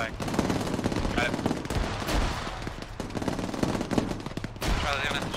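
Gunfire against an enemy turret in the military game ArmA 3, with rapid machine-gun bursts and scattered shots cracking continuously, mixed with radio-style chatter and movement noise.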